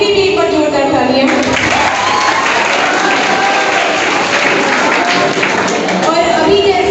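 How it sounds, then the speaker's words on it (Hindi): An audience at a 2022 student award ceremony gives loud, sustained applause for students who scored above 400 marks, a dense continuous wash of clapping heard close and steady throughout. "उनके लिए भी एक बार जोरदार तालियां"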